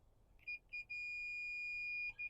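A multimeter on continuity mode beeps against a lowrider hydraulic pump solenoid, giving two short high-pitched electronic beeps and then one long sustained tone and a final brief beep, all clear over a quiet background.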